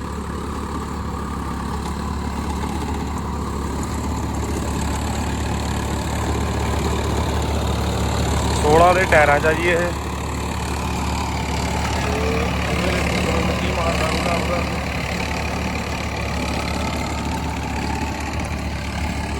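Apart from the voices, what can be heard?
Swaraj tractor engine running with rotavator in wet field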